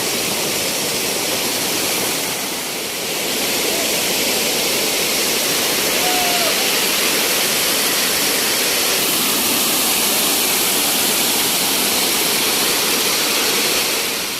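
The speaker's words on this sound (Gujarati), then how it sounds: "જે જગ્યા પર ગુપ્તેશ્વર મહાદેવનો ધોધ પડે છે" The Gupteshwar Mahadev waterfall at Pavagadh, India, roars nearby, a loud, constant rushing wash of water that barely changes throughout.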